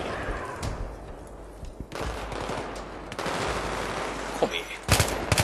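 Rapid machine gun bursts and other gunfire crackle through a Battlefield 3 battle, dense and busy with loud sharp shots near the end over a steady background of combat noise.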